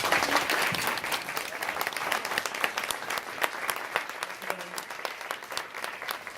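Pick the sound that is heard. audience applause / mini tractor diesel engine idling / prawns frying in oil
audience applause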